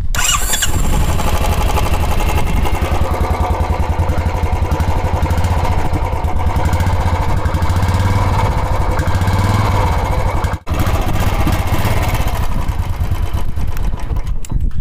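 A Royal Enfield Classic 350 BS6 motorcycle with a cut short-bottle exhaust starts up and settles into a steady, loud thumping idle, running close and continuous for the whole stretch.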